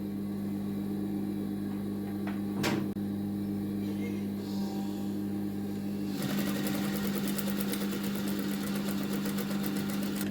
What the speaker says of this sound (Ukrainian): І прокладу по підкладці строчку.